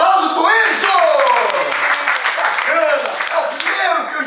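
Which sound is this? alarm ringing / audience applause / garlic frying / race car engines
audience applause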